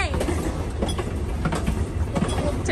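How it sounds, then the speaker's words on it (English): Train cars rolling on rails during a scenic train ride at a little over 15 miles an hour, a steady low rumble with repeated clickety-clack wheel beats throughout, close and fairly loud, with no talk. "This is a scenic train ride."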